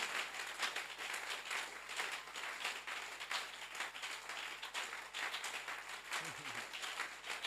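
A church congregation at a Sunday service applauds and cheers in a dense, steady wash of clapping that fills the whole stretch, with voices mixed in throughout.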